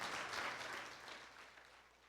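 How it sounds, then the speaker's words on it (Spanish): A church congregation claps for the Lord, a dense wash of many hands clapping at once that swells and then gradually thins out, with no voices standing out. "dale un aplauso al Señor"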